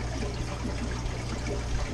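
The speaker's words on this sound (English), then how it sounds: "I'm going tank to tank doing a big water change." Water pouring steadily into an aquarium during a big water change in a fish room, a continuous soft splashing trickle without break.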